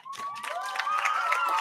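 Audience at a high school football game's homecoming ceremony cheering and whooping for the nominees, with light clapping mixed under the rising voices.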